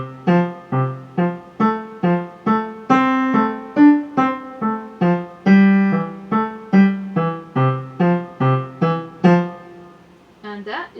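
Piano left-hand part of Schumann's The Wild Horseman, played alone as a steady run of short, detached low notes in a driving even rhythm, close and clear, ending with a brief soft noise.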